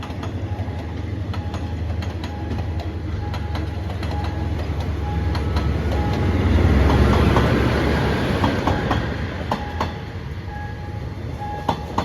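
Rapid train no. 139, a Bangkok–Ubon Ratchathani CNR sleeper, passes a railway crossing on Si Ayutthaya Road in the evening, a loud steady rumble with wheel clatter that swells toward the middle and then eases.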